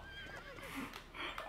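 A horse whinnies loudly in a Lego City Undercover video game, a rising, wavering neigh followed by a second shorter call, close up and with no talking over it.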